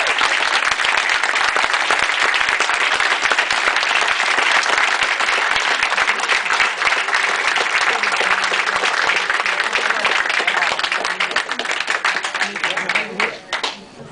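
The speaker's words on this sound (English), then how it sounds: "could we have a round of applause for Joan?" Audience gives a sustained round of applause at a civic honoring ceremony for Sierra Madre's Older American of the Year, loud, thick clapping that thins near the end, with voices mixed in.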